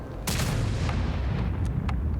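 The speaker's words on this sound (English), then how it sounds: "Scrubs starts shooting into the ground" A tank in World of Tanks fires a shot into the ground: one heavy boom that rolls into a low, sustained rumble, with a couple of fainter thuds following.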